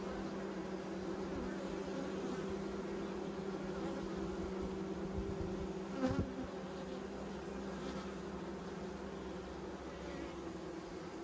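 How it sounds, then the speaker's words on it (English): Swarming honey bees in an open hive holding honey and sugar syrup: an unbroken, even drone of many wings, close and steady throughout, with one brief louder knock midway and no talking. "there's a fair amount of bees in here, all round"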